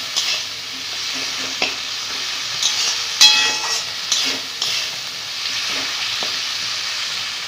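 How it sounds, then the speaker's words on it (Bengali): Masala with chopped tomato and a little water sautéing in a pan, a constant close sizzle broken by scraping stirs and a few sharp clinks of the spoon against the pan. "মশলাটা ভালো করে কষিয়ে নিব।"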